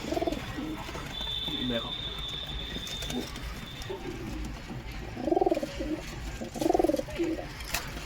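Pigeons coo in a homemade pigeon house, with soft, repeated throaty coos in a couple of bursts under steady background noise; a person speaks briefly nearby.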